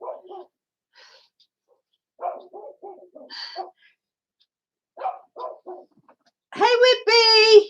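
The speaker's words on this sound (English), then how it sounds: "You can hear a dog down the road barking." A dog barks down the road, a couple of loud, clear bark bursts near the end following quiet speech from a nearby voice earlier on.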